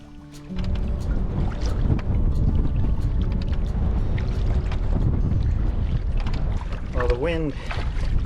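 Strong headwind on a large lake in Killarney Provincial Park, heard from a canoe: a dense, constant roar of wind buffeting the microphone with water sloshing beneath, loud and unbroken throughout, with a brief rising squeal near the end.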